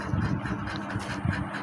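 A Royal Enfield Bullet motorcycle engine idles close by, a steady low rumble with a faint uneven pulse throughout.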